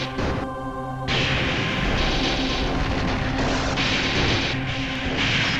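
Explosions and battle noise from the Metal Slug Defense game: dense booming blasts and mechanical clatter pile up continuously over a musical bed, loud and busy throughout.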